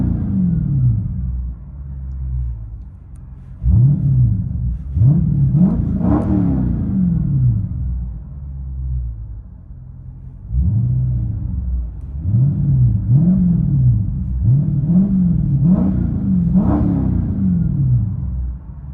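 A Chrysler 300C with a 6.4L HEMI V8 and mid muffler delete, heard from inside the cabin: a deep exhaust rumble swelling through several loud revs and accelerations, easing back between bursts.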